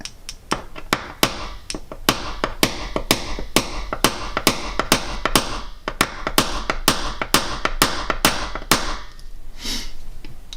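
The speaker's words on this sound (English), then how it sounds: "Then I'll get my bigger hammer out." A bigger hammer taps pins down on grain equipment, making a rapid run of crisp, close strikes, some doubled, that thin out and stop near the end.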